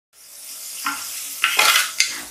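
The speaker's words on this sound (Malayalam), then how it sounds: "ഈ സവാള നല്ല ബ്രൗൺ കളർ ആവുന്നതുവരെ നമുക്കിതൊന്ന് വഴറ്റി കൊടുക്കണം." Onions being sautéed in a pan for Kochi-style beef vindaloo give off a steady sizzle, broken by several sharp metallic scrapes and clinks as they are stirred, with no voices.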